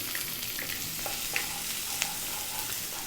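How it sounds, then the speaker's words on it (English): Onion sizzling in hot oil in a pan on high heat, a steady bright hiss with a few faint pops and small clinks, no voices. "Next up, we're going to drop in the onion"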